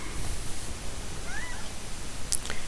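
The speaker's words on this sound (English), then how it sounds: "If you hear that, that's my cat." A house cat gives a faint, brief meow or two over a steady background hiss, fairly distant and with no talk.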